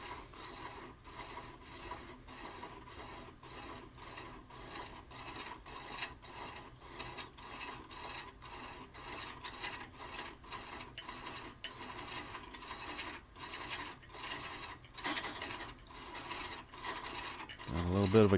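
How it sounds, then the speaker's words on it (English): Steel bolt being turned by hand to cut threads into wood, a repeated rhythmic creaking and ratcheting rasp of the thread biting, steady and close throughout. "Now I can feel it cutting a little bit. Engaging the thread."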